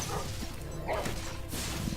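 A dog enemy in Spyro Reignited Trilogy gives short yipping barks amid game effects and background sound, fairly close and moderately loud.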